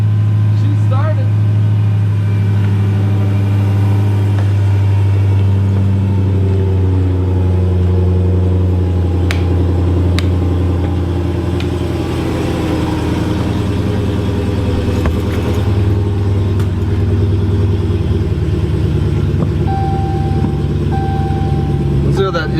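A started engine in a 2016 Jeep SRT or 2017 Challenger Hellcat, idling in a loud, steady low rumble with strong harmonics, close by, with a short beeping tone near the end.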